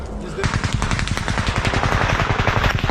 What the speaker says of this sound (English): Gunfire echoes from all directions. The machine gunner returns fire